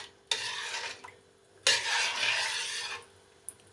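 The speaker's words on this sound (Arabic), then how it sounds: "ونديله تقليبه" A rice dessert mixture flavored with orange blossom water is stirred in a pot in two scraping bursts, with a faint clink at the end, close and fairly quiet.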